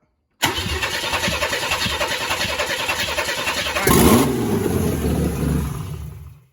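A Chevrolet C1500 pickup with a Vortec engine cranks and fires up, settling into a loud, steady idle with a brief surge partway through before cutting off, heard close by.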